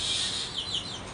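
House sparrows chirp in quick, bright bursts close by on a sunny morning at home, with no talk over them.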